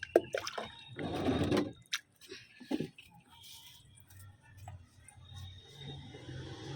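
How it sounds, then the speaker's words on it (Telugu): Water is poured in short splashing bursts, gurgling and trickling onto the soil of potted plants nearby, with soft drips and quiet pauses between pours. "ఇప్పుడు ఈ వాటర్ని మన సాయిల్ భాగంలో ఇచ్చేసుకుందాము"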